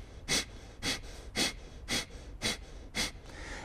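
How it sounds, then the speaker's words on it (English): Six sharp, evenly spaced exhalations forced out through the nose in a breathing exercise, each a brief close-up whoosh of air with quiet pauses between. "this one works by blowing air out through your nose."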